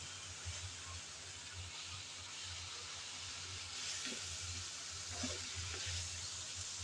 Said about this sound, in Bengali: এই দন্দুলও তেলের মধ্যে 2-1 মিনিট এভাবে নেড়ে চেড়ে ভেজে নিতে হবে